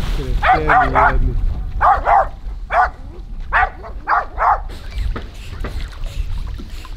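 Two dogs, a father and son, bark repeatedly by the water, loud and close in quick pairs and bursts with short gaps, over steady outdoor background noise.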